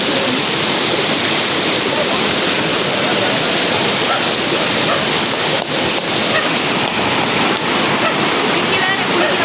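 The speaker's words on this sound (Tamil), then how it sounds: "இப்போ அந்த தண்ணி ஃபோர்ஸ் அதிகமாக இருக்குது" Strong river current rushes loudly and steadily as people wade across it near a remote village, a dense, unbroken roar filling the whole stretch with no break.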